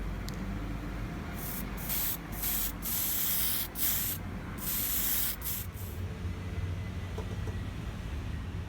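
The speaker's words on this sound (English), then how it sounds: "I decide to give it a clear coat finish." Clear coat finish is sprayed onto a forged steel hook bracket from an aerosol can in a series of hissing bursts of varying length, close and steady, with short pauses between passes.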